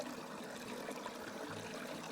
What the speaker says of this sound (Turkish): yanımda küçük bir derenin aktığını gördüm